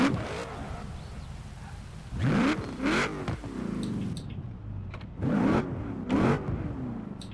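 Engine of a 1969 Chevrolet Nova Super Sport 396 Forza Edition drag car with side exhausts in Forza Horizon 4, revved in several rising bursts with quieter idling between them.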